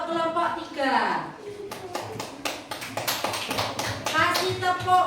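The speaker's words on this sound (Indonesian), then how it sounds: "tepuk tangan untuk kelompok 3" Children clapping for group 3 in a classroom lesson, a series of sharp claps in loose rhythm between and beneath children's voices and an adult speaking.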